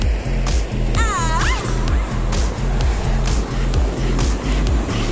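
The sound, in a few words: waterfall stream water flowing down from the hill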